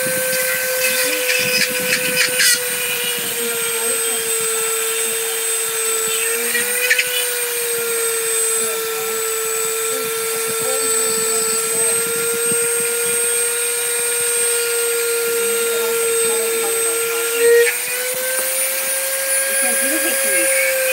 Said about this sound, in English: It's a Dremel doohickey.